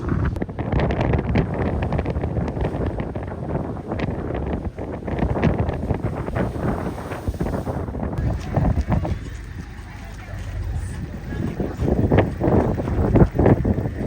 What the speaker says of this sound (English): it is so windy out here